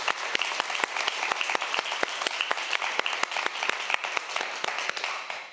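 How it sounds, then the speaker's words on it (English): An audience applauds sponsors at an evening design talk, a steady dense clapping from many hands that holds at an even level for the whole stretch, with no voices over it. "I would very much like you all to just give a round of applause to, who supported this evening."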